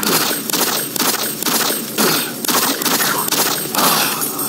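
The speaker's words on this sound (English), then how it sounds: "Who's shooting at me?" Gunfire in the video game Doom 3, a loud rapid fusillade of shots in repeated bursts with steady rhythm throughout, no speech.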